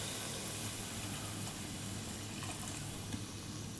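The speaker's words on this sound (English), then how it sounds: "I'm going to add some liquid, and I'm just using water." Water is poured from a tap or jug into a pot of spiced pumpkin soup with coconut milk, a steady quiet rushing fill with faint background hum, no talking.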